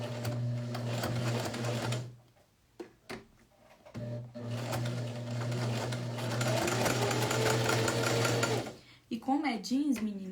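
A domestic sewing machine set to a long stitch runs steadily while sewing a jeans pocket, whirring in two long bursts separated by a pause, with someone talking over it.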